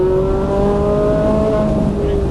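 A Ferrari 458 Italia or Nissan R35 GT-R sports car accelerates on a Las Vegas race track, its steady engine drone loud and close throughout, with an instructor's voice coaching over it.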